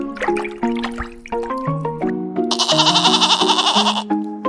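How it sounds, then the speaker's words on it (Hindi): Goat bleating in a children's alphabet song, a few wavering bleats set over a bright synthesized melody with steady musical backing throughout. "G फॉर गोट, GOAT गोट। हिंदी में मुझे बकरी कहते हैं।"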